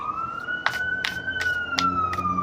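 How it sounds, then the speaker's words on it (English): An emergency vehicle siren outside wails with a slowly sliding high tone, while sharp clicks and taps sound close by over it. "Sorry again for the siren"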